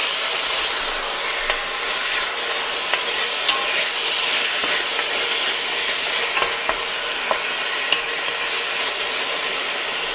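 Pieces of pork rouelle sizzle and spit steadily as they sear in a hot pan, a dense crackling hiss with occasional sharper pops, close and continuous.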